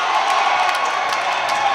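A basketball crowd at a high school game, Franklinton at Lakeshore, cheers and whoops wildly during a timeout, a dense roar that stays loud the whole time.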